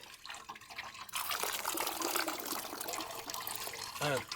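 Water draining through cloth while straining fresh paneer in an Indian village kitchen, a steady broadband splashing rush that swells after a quiet start and runs on with a brief voice near the end.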